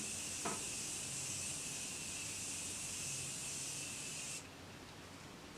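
A Morphe x Jeffree Star Starberry Setting Refresh Mist bottle lets out one long, close, loud hiss of spray that holds steady for about four seconds and then cuts off, leaving quiet room tone.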